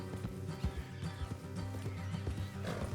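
Horses trot with steady clip-clopping hooves while a horse whinnies in Red Dead Redemption 2, the sounds close and dense throughout.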